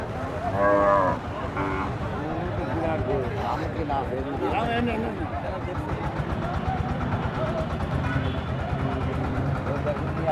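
Cattle mooing at a Dugdugi bull market, long low calls repeating near and far under steady crowd talk, with an idling engine rumbling in the background.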